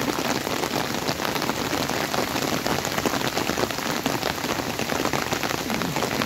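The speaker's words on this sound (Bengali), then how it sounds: "চারপাশে কী পরিমাণ বৃষ্টি হচ্ছে।" A downpour drums steadily around a leafy, tree-lined place, a thick, constant roar of raindrops hitting surfaces, close and loud from start to finish without any voices.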